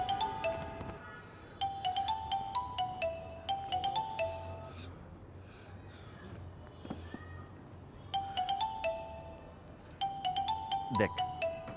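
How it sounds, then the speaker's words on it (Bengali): A mobile phone rings with an incoming call, a faint, repeating melodic chime in short bursts with pauses between, heard indoors in a quiet room. "একবার ফোন কাটলাম, আবার ফোন দিচ্ছি"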